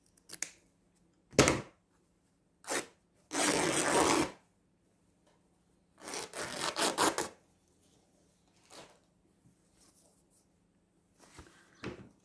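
Fabric is torn by hand for a DIY junk journal cover, giving several separate loud ripping bursts of different lengths with quiet pauses between, close and alone.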